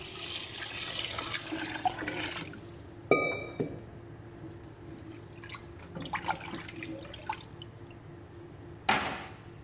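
Water splashes and drips into a cooking pot of beef and carrots, with a sharp clatter and a few scattered pours and trickles over a low kitchen hum.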